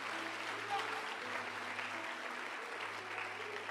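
Faint, steady clapping from a church congregation at an evening service, lasting several seconds over a low electrical hum, with no clear voices.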